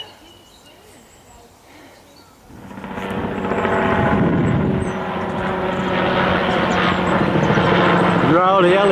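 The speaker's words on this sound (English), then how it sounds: "Rowdy helicopters." Helicopters fly overhead a field, their engine and rotor drone swelling from quiet to a loud, sustained roar that stays close and fills the remaining seconds.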